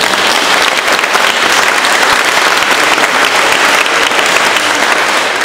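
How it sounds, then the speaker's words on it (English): Sustained applause from a large graduation ceremony audience, steady dense clapping filling the hall throughout without pause. "I give you a hand of applause for all the things you have done"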